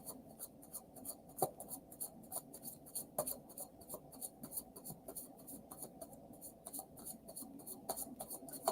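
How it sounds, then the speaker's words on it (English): Classic Llewellyn tarot cards being shuffled by hand, a quiet, steady run of soft riffling and rasping flicks up close. "Shuffle, shuffle."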